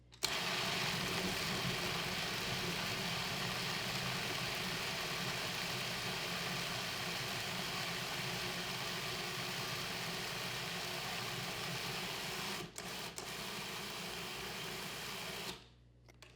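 A food processor blends dates for protein bites, whirring loudly and steadily for about fifteen seconds before cutting off, with a brief stutter near the end.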